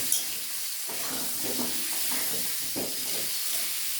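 Potatoes fry in hot oil with turmeric and Kashmiri chilli powder in a pan for a mutton curry, giving a steady close hiss and sizzle with soft scraping stirs and no talk.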